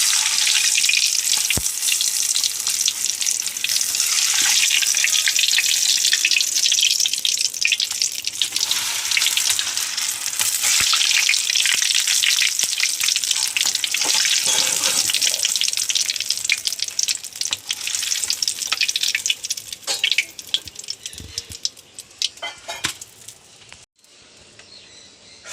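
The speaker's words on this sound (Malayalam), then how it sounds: "എണ്ണ കാഞ്ഞ് പപ്പടം വറക്കട്ടെ." Papadams fry in hot oil, giving a loud dense crackling sizzle that holds steady, then thins out and fades toward the end as the frying subsides, with no talk.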